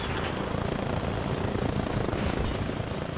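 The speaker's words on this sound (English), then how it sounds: "I was able to grab the helicopter" A video-game helicopter drones steadily with a broad, even rotor and engine wash, close and unbroken, with no talk over it.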